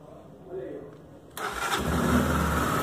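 A Honda XRE 300 motorcycle with its stock exhaust and no filter fires up after a quiet lead-in with low voice sounds, then settles into a loud, close, rumbling idle.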